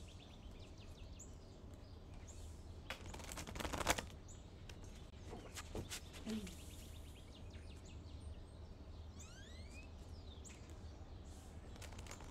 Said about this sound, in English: Do you hear all the birds and see the flies?